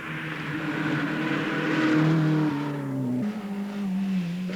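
Rally cars from the 1983 RAC Rally scorch over cobblestones near Carlisle Castle: a single engine roars close and loud with a sustained, rising snarl, dropping in pitch at a gear change before pulling on.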